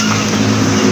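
A Rusi Surf 110 motorcycle engine runs after a long idle spell, a loud, close, steady low hum with an even drone and no speech.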